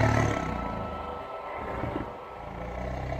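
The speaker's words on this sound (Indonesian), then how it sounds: "hampir tiap malam sering terdengar suara dari auman harimau yang seperti sedang kesakitan" A tiger gives a low, rumbling roar that sounds pained, a sustained deep growl that swells and fades across the stretch, fairly loud as a standalone sound effect.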